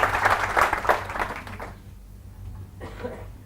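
Audience clapping at a Hindi business talk, a dense burst of applause that fades out after a couple of seconds, leaving a quiet room with a faint murmur near the end.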